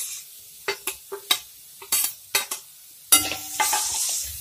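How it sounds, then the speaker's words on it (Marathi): Metal spoon taps and scrapes against a pan in a quick irregular series, then grated ridge gourd peel drops into hot spices and a close sizzling hiss rises and continues to the end. "आता आपण किस टाकणार आहोत."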